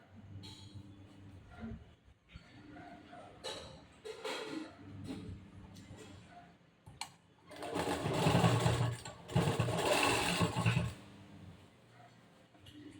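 A sewing machine stitches a blouse sleeve, starting with short, quieter runs and handling noises, then running steadily and loudly for about three seconds before stopping.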